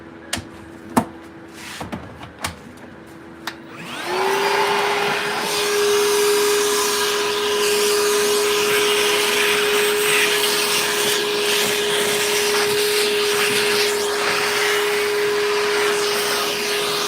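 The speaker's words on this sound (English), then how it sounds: "Just going to run the Hoover over it quickly." A Hoover vacuum cleaner switches on in a stone carving workshop after a few sharp knocks and clatters, then runs loud and steady with a constant whine for the rest of the span.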